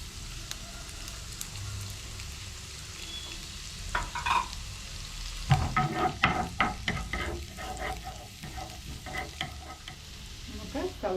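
Chopped garlic drops into hot oil in a pan while making a banana-flower vegetable cutlet, bursting into a louder crackling sizzle midway over a quieter background fry, with stirring scrapes and no talk.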